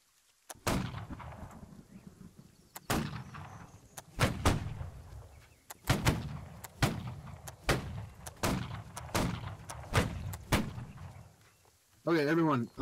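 Ripple fire from a shooting line: sharp, loud gunshots go off one after another at irregular intervals of roughly a second, each cracking and fading with a short echo, ending in a brief garbled burst.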